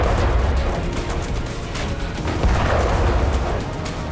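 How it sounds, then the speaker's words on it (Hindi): Explosions near a ship at sea in the Russia-Ukraine war, heard as a series of distant booms and rumbling blasts over a continuous noisy roar, with no voices. "अब एक और वीडियो में शिप के करीब धमाका दिखाई दे रहा है।"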